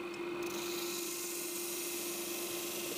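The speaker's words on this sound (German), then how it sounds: "Der Feinschliff wird von Hand gemacht." Continuous close scraping of fine abrasive on wood during hand finish-sanding in Finland, an even, hissing rasp with a steady tone underneath and no pauses.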